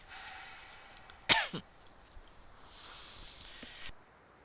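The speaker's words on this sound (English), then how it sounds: "my persistent cough has been pretty bad today" A single persistent cough bursts out close to the mic amid a quiet room, followed by a softer short sound, then low background hiss and a faint rise near the end.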